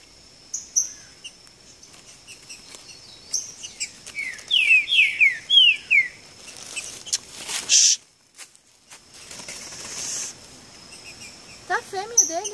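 Green-winged saltators (trinca-ferro) sing in the wild in a territorial dispute, giving several bright whistled phrases mid-distance amid other bird chirps and faint insect noise, with a brief loud knock.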